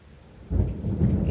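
Thunder rumbles during a rainstorm, quiet at first and then swelling into a loud, sustained low roll after half a second, with rain hissing steadily underneath.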